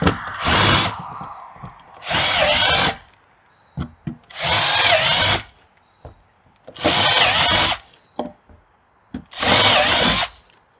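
Power drill boring holes into a plastic compost bin, five loud bursts of a couple of seconds each, evenly spaced with short quiet gaps holding small clicks and handling sounds.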